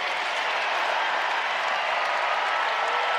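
Arena crowd at a USC Upstate vs. North Carolina men's college basketball game cheering and applauding after a three-pointer, a steady, dense roar of clapping and shouting that holds loud throughout without a break.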